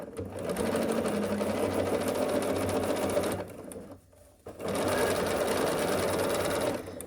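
A sewing machine runs a long, steady seam through layered quilt fabric for a half-square-triangle block, pausing briefly midway before resuming its even whir, close and loud.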